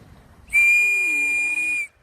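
A single shrill blast from a whistle on a swimming buoy, held steady for about a second and a half, loud and close, then cut off.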